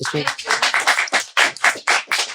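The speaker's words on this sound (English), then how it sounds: "Y'all not going to clap?" Podcast hosts clapping in a small studio, a quick run of close, sharp claps in an uneven rhythm, fairly loud, with a brief voice at the very start.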